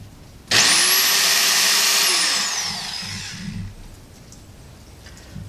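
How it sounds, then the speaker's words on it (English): A power drill boring holes in a Jeep, spinning up with a loud high whine for about two seconds, then winding down and fading out, close and alone. "I'm totally drilling holes in my shiny new thing."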